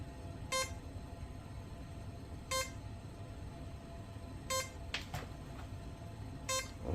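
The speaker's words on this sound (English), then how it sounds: "It's still beeping though" Short electronic beeps from an Eratix 3D flat foamy RC plane's receiver after binding, sounding roughly every two seconds in a regular pattern over faint background hum, with no talk.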